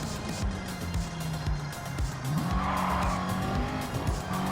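Car engine in a racing video game on the Michelin circuit, revving steadily, then a hard e-brake skid with tire squeal as the revs drop, loud and close throughout.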